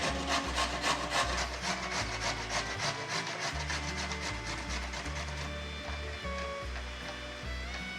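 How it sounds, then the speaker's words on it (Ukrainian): Raw potato rubbed against a coarse grater in a home kitchen, a steady run of rapid scraping strokes up close and fairly loud, with onion and garlic frying nearby. "Поки готується цибуля, я натру картоплю на грубі терці."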